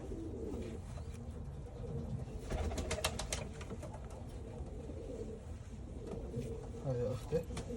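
A pair of grey racing pigeons, sisters from one nest with Belgian rings, coo softly and repeatedly in a loft, low murmuring calls running steadily throughout alongside faint background noise.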